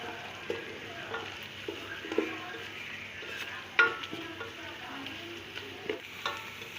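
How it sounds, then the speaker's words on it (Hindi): Onions and whole garam masala sautéing gently in oil for chana pulao, a soft, fairly quiet sizzle broken by scattered spoon scrapes and taps against the pot, close and without voices. "प्याज को हमने बस हल्का सा नरम करना है, ज़्यादा हमने इसको गोल्डन नहीं करना।"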